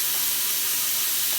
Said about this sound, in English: Let's brown this down. You hear that sizzle? That means the pot ready.